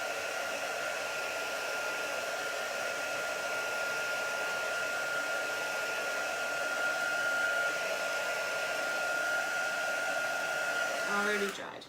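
A hair dryer blows steadily at close range, drying chalk paste on a porous surface, with a constant loud whirring tone that cuts off abruptly at the end.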